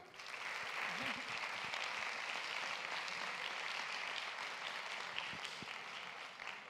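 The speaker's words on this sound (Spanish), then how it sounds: "Pues le damos un aplauso." An audience at a technical conference session applauds after a talk. The clapping is steady, soft and somewhat distant, with a faint voice or two underneath.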